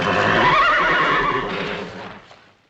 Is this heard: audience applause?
no